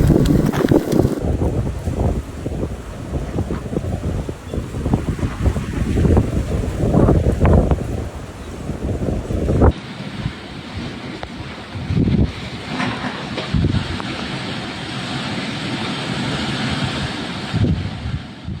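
Storm wind gusts from Storm Dave batter a microphone outdoors in southern Norway, a loud continuous roaring rush with surging gusts and buffeting, shifting in character partway through.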